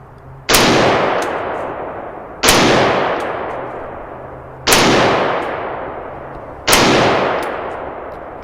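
Four loud, sharp rifle shots fired at a target down range through a night vision optic, spaced about two seconds apart, each with a long decaying echo.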